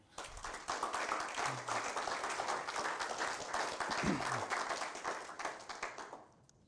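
A church congregation applauds the Lord, a broad, steady roll of many hands clapping together that carries on for several seconds before fading, heard quietly from a distance with a brief voice beneath it.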